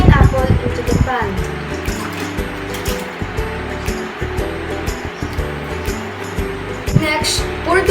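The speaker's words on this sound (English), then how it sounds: "Next, pour the water in the pan." Water pours steadily into a pan, a continuous splashing rush over a low tonal background.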